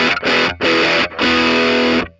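Electric guitar played through a 1981 Inventions DRV Blackout distortion pedal with the drive turned down, three loud sustained distorted chords separated by brief gaps, the last ringing longest before cutting off.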